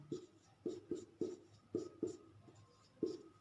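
Pen or marker strokes writing out maths factors by hand, a run of short, close scratchy taps in an irregular rhythm, fairly quiet with no talk.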